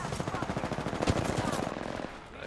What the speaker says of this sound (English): We're going towards those other shots.